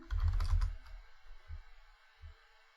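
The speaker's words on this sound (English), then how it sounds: "I need a new keyboard. This one's so clanky." Clanky computer keyboard being typed on, a dense flurry of clattering keystrokes at the start followed by two isolated thumps, quiet and close with no talking.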